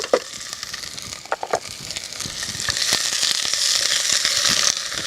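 Onions and shallots fry in hot oil in a pot on the stove, a steady close sizzle that swells louder through the second half, with scraping stirs and clicks from the pan along the way.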